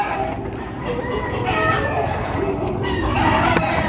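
A flock of chickens and roosters clucks and calls continuously close by, overlapping bird sounds forming a busy, steady poultry-yard din.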